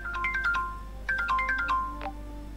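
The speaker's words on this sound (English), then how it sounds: "Oh, my phone is calling." Phone ringtone in the Forspoken video game, a bright electronic melody of quick rising notes played twice in a row, clear and close over a low steady background hum.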